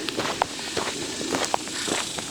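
Footsteps crunch along outdoors at an even walking pace, close by, over a constant bed of bright insect-like buzzing.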